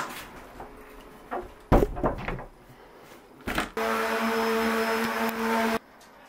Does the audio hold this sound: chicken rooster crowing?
no